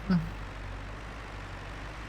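A tractor engine in the farming game Griffin Indiana runs at a steady low idle, a constant near rumble with a brief thump at the start.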